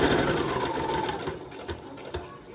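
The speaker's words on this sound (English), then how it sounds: "So I'm going to sew the lining and the bodice outer layer together." A sewing machine stitches the lining and outer bodice layer of a pink and purple Barbie Rapunzel costume dress, running in a steady continuous whir close to the mic with no voices.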